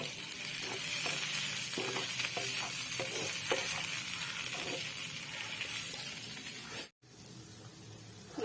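Prawns fry in a small amount of oil until crispy, giving a steady close sizzle with occasional stirring scrapes, briefly cut off near the end before the sizzling resumes.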